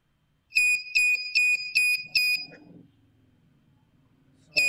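An Arduino alert buzzer, triggered when an IR sensor detects an object, gives five sharp, loud electronic beeps in quick regular succession, then a short murmur of voice and a sixth beep starting at the end.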